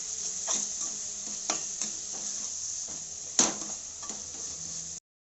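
Onion paste stirred and roasted in a pan, with a steady close sizzle under repeated scraping strokes of a spoon against the metal and one sharper clink midway.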